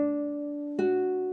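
A classical guitar plays the pickup notes of João Pernambuco's "Sons de Carrilhões," a sustained plucked note ringing alone before a second pluck enters near the end, close and clear.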